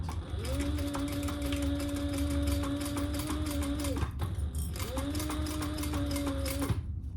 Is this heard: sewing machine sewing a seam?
yes